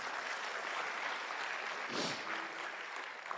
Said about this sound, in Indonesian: gak ada salahnya tepuk tangan yuk buat TNC dan One Vision